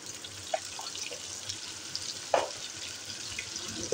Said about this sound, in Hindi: इसको फ्राई कर लेती हूँ अच्छे तरीके से।